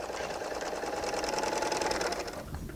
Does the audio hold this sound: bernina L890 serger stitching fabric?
yes